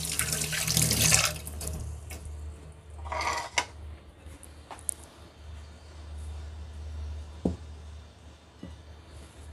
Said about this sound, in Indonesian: Cuci tangan